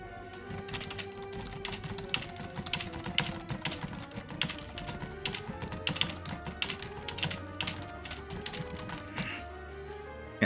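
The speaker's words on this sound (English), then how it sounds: "how's that for loud typing?" Loud, rapid keystrokes on a computer keyboard, a fast irregular patter of sharp clicks continuing for about ten seconds with a faint tonal hum in the background.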